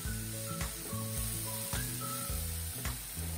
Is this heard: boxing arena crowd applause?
no